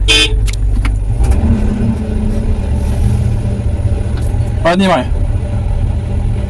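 A Kamaz dump truck sounds a short horn blast over a steady idling engine rumble, with someone talking close by around it.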